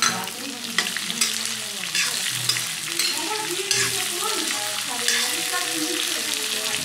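Onion frying in a pan for kinema soybean pickle sizzles steadily and close up, with stirring scrapes and crackles throughout.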